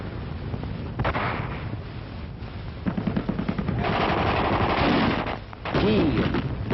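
Gunfire and rattling machine-gun bursts from street fighting during the Liberation of Paris in 1944, a dense sequence of crackling shots and volleys, some close and sharp, on an old muffled recording.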